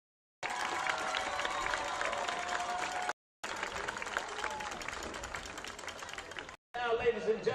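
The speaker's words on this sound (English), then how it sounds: "How about a fine round of applause for these brave women?" A crowd at a varsity high school football game applauds and cheers, with a tone running through it, in three segments broken by short silent gaps, with chatter mixed in.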